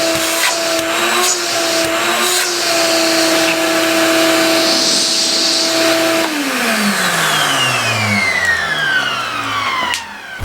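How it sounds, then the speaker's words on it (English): A Craftsman CMXEVBE17596 20-gallon 6.5 peak HP shop vacuum motor roars steadily and loudly, then winds down in pitch as it switches off near the end. "Well, it's a vacuum."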